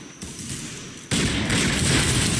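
Gunfire in a Roblox Wild West game, a Guycot chain carbine: a quieter stretch of scattered shots, then a sudden loud, dense burst of rapid close gunfire that continues to the end.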